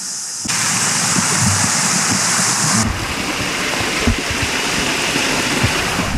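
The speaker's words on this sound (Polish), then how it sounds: "O, słyszę chyba wodospad jakiś." A loud, steady rush of a waterfall in Nordfjordeid, Norway roars continuously and close by, with no voices.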